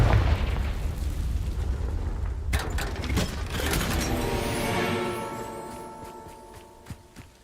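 A Confringo spell explodes in Hogwarts Legacy with a heavy low rumbling boom that rolls on, then breaks into sharp crackling debris and ringing mechanical clatter that fades over several seconds.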